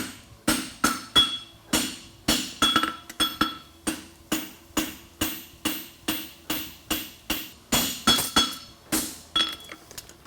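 A blacksmith at a world championship event in Madison forges a French hind horseshoe, hammering hot steel in a steady run of about twenty ringing blows, close and loud, with brief pauses between strikes and no talking.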